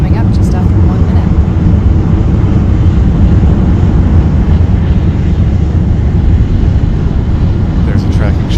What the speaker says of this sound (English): There's a tracking shot of the rocket ascending from Cape Canaveral on its way to space.